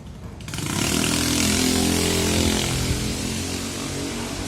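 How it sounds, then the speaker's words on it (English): A loud motorcycle engine roars past at night on a Mexico City street, rising sharply after a brief quiet start and holding a raw, buzzing drone that fades only slightly as it moves on. "Noisy ass motorcycle."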